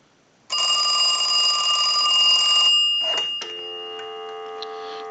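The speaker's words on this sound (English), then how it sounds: "We'll give you some dial tone." Telephone tones on a Western Electric 2554 wall phone under repair: a loud steady multi-tone ring-like signal for about two seconds, a brief break, then a continuous steady dial tone holding to the end, with no talk.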